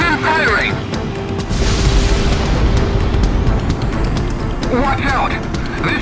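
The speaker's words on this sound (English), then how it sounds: "Cannon firing!" A heavy cannon fires in the Ace Combat X flight combat game, a loud booming rumble that swells and holds through the middle, with jet engine noise and brief radio-style voices at the start and end.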